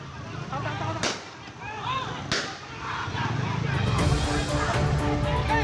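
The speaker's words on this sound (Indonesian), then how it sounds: "Penangkapan berlangsung dramatis diwarnai sejumlah tembakan peringatan." Two sharp police warning gunshots ring out a second apart during a clash over a building demolition, over a noisy crowd with shouting voices and traffic rumble, followed by more commotion.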